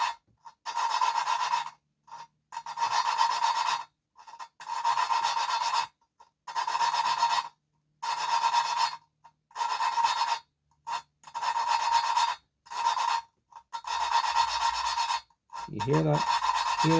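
Valve lapping on a Kawasaki ZRX 1200R cylinder head with coarse paste: repeated bursts of gritty rasping rub, each about a second long with short pauses between, close and steady, ending with a brief vocal sound.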